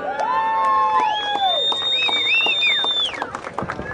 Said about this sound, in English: let's have another round of applause for Desiree.